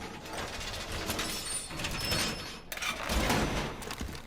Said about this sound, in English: You're going to reinforce this wall.